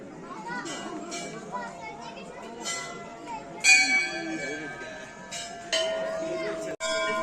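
Temple bells ringing in a busy hill-town crowd, several clear metallic strikes with lingering tones scattered over the scene, heard among children playing and people chatting nearby.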